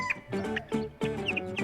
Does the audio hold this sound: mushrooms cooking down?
no